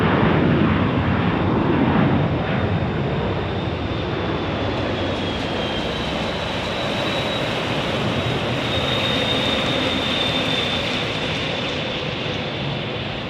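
A C-175 aircraft at Phoenix Sky Harbor International Airport produces a loud, steady broadband engine roar that holds throughout. A high whine rises and then slowly descends above the rumble, and no voices are heard.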